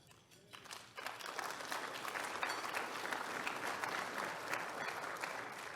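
Audience applause at a State of the Region 2023 gathering swells up after a brief quiet start, turning into a dense, even wash of clapping from a large crowd that holds steady to the end.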